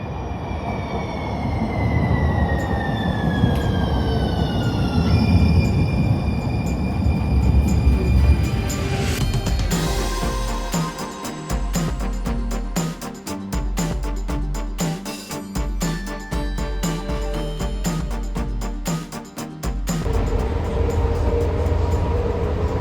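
San Diego trolley Blue Line train riding the rails in the early morning: a steady, loud rumble of wheels on track with rising wheel squeal, then dense rhythmic clatter over rail joints, no speech.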